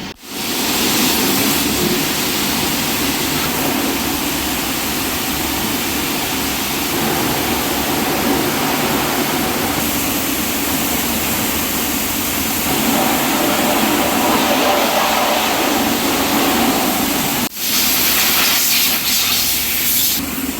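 A pressure washer spraying water over a Hero Xpulse 4V motorcycle after servicing: a steady, loud, close hiss that runs unbroken throughout, with one brief dropout near the end.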